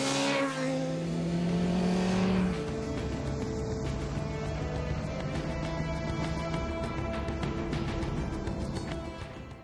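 An MV Agusta motorcycle engine revs hard with a twist of the throttle, a loud rising pitch that peaks and then settles into a steady, fainter rumble.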